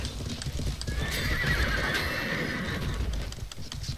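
A heavy war horse in the video game Life is Feudal neighs loudly over rhythmic clip-clopping hooves during a battle, with faint metallic clinks in the background.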